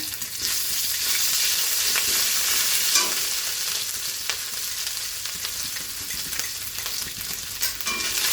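Cumin and ginger paste fry in a pan for a potato and pointed gourd vegetarian dish, a strong close sizzle that eases slightly as a spoon stirs with occasional scrapes and clicks.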